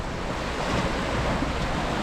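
Sea waves wash steadily at the end of a breakwater jutting into the Arabian Sea, a continuous broadband rush mixed with wind buffeting the microphone, with no speech.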